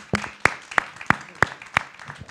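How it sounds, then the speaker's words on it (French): Hands clap in a slow, even rhythm at a lecture, six sharp claps spaced evenly apart, nearby. "Après ces remerciements et ces applaudissements d'ailleurs"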